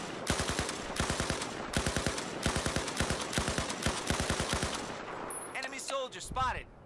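Rapid bursts of video-game gunfire rattle out in repeated short volleys for several seconds, loud and steady, then give way to a quieter stretch with faint voices near the end.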